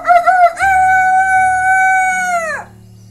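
A human voice imitates a rooster's cock-a-doodle-doo during a children's storytelling session, one long sustained, harmonic crow that rises, holds steadily, then drops away and fades, with a faint low hum underneath.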